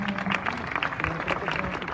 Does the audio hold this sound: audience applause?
yes